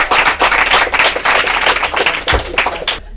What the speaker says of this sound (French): Et on applaudit Arafa.